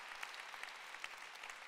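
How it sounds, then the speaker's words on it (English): Faint audience clapping during a talk about getting out of debt, scattered sharp claps over a soft continuous patter, fairly distant. "yeah, you can clap for that."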